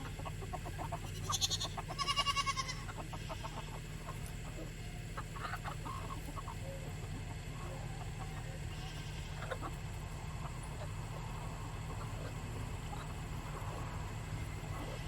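Chickens cluck and squawk in short bursts early on over a constant low hum, then fainter farmyard noises continue.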